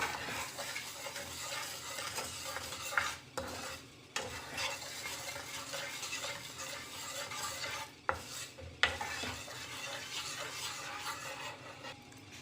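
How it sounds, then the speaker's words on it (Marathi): Sugar stirred in a pan as it melts, for a peanut sweet, with a steady close scraping and swishing of the spoon against the pan and a few sharper knocks, no talking. "आपण 1 वाटी साखर टाकूया आणि हिला छान ढवळत राहूया, फिरवत राहूया आणि वितळू द्यायची ती साखर छान"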